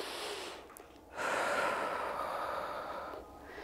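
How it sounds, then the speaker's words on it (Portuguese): Breathing during an arm-raising exercise: a soft breath at the start, a brief pause, then a long, steady exhale lasting more than two seconds and fading. It is fairly quiet and close, with no speech over it. "continua respirando."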